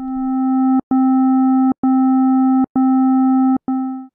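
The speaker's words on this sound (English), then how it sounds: "a square wave with only odd multiples of the fundamental in its spectrum" An FM synthesizer plays a steady square-wave tone built from a 1:2 carrier-to-modulator ratio, repeating five times as even, buzzy beeps separated by brief gaps.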